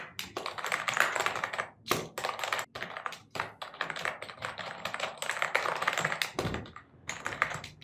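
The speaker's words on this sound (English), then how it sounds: "So first I will type something here." Fast, steady clicky typing on a Zebronics Transformer Pro gaming keyboard, keys tapping in quick bursts with a couple of brief pauses, close and moderately loud.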